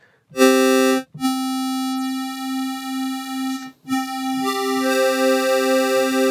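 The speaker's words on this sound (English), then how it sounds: "if I start to detune one of them regarding the other, you, you will get this kind of chorus almost kind of sound" Sustained buzzy synth tones from detuned square waves, with a wavering chorus-like shimmer; a few held notes separated by brief gaps, no voices.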